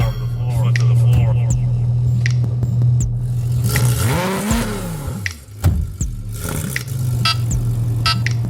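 A car engine is held at full throttle, producing a loud, sustained droning hum. Midway the pitch swoops up and back down, with scattered scrapes and clicks throughout.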